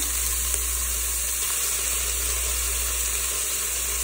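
Chili, ginger and garlic sizzle steadily in a pan of oil for lentil soup, a loud, continuous close-up hiss with no talking over it.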